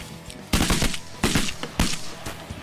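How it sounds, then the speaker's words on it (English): Shotgun blasts from waterfowl hunters, three loud close booms in quick succession with short rumbling tails, with no talk in between. "Good shooting, fellas."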